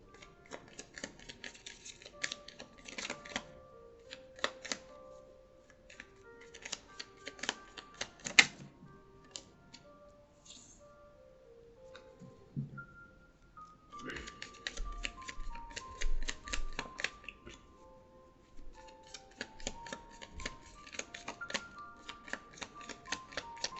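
Tarot cards shuffled and drawn, with quick clustered papery flicks and taps coming in bursts and pauses, faint to moderate and close, alongside occasional soft tones and a few low thumps, with no talking.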